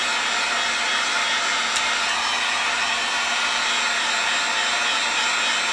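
Heat gun running at high power, a loud, steady, continuous blowing whir with an even hiss that holds unchanged throughout, no voices.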